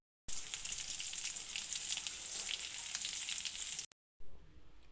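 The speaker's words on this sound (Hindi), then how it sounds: "आने तक हम इनको फ्राई करेंगे और साइड चेंज करेंगे" Potato and egg kebabs frying in oil, a steady close crackling sizzle that stops abruptly near the end, then resumes more quietly after a brief gap.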